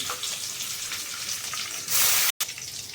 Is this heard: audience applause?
no